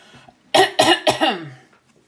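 A woman coughs three times in quick succession, close and loud, followed by a short throat-clearing sound in a quiet room.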